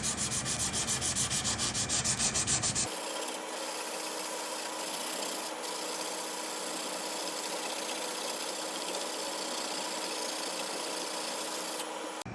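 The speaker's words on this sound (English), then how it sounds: "to hand sand a hollow grind, I have found the best way to do that is actually just to use your finger in sandpaper" Fingertip hand sanding of a Damascus steel seax hollow grind with sandpaper, a steady close rubbing scrape, rhythmic strokes at first, then a continuous hiss over a low background hum.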